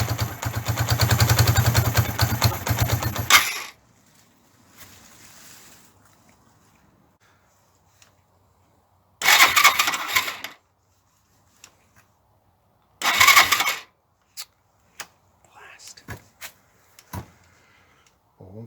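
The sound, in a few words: Suzuki GN125 motorcycle engine running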